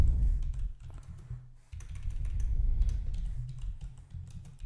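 Rapid clicking of keys typed on a computer keyboard while entering a chatbot prompt, a steady close run of taps with a brief pause partway through.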